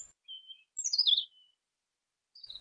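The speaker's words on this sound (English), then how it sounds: "He is not aware of the birds already encroaching on his sight behind him" Small birds chirp near a picnic table with food set out, giving a few short, bright tweets and trills separated by silence, with no voices.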